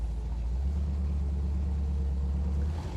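A Plymouth Sport Fury GT rolls over speed bumps, its engine and road noise a steady, deep, close rumble heard from inside the car.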